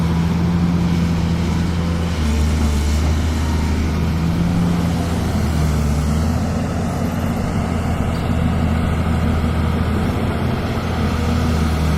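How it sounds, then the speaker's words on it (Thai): An Isuzu 6BG inline six-cylinder diesel engine of 173 horsepower at 2,100 rpm drives a pump, giving a loud, continuous low drone and hum that holds steady throughout, with no talking. "เครื่องยนต์ยูสุ 6BG ครับร้อยเจ็ดสิบสามแรงม้า ที่สองพันหนึ่งร้อยรอบครับ เครื่องยนต์หกสูบเรียงนะครับ"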